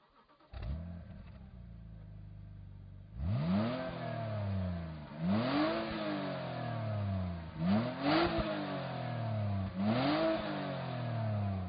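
A 2006 BMW 330xi engine idling, then revved four times in a row, each blip rising sharply and falling back to idle, heard clearly with no talking.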